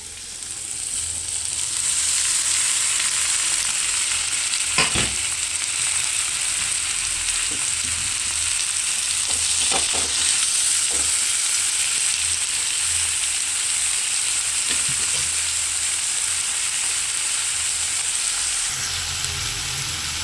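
Tomatoes fry in a little oil in a pan for tomato rice, a loud, steady hiss and crackle lasting throughout, punctuated by several brief utensil scrapes and clinks, with no talking.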